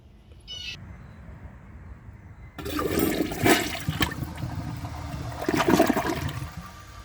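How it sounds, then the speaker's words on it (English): A 2012 Glacier Bay high-efficiency toilet is flushed, and a sudden loud rush of water starts after a quiet pause, then swirls and drains with a second surge near the end. "let's give this a flush and see how it does."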